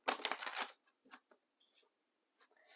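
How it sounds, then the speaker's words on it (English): Tarot cards are riffled in a quick burst of papery flutter, then a few softer taps and slides as the deck is handled, quiet and close. "Let's do some initial shuffling."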